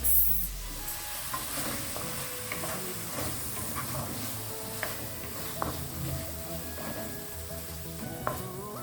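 Broccoli being stirred as it fries in a pan, a steady close sizzle with scraping and clinking stir noises throughout and no talk.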